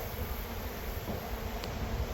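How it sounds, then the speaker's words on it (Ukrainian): Honey bees swarming around a honeycomb during honey harvesting, a steady close buzzing hum with no talk. "купа бджолі тут зібралася"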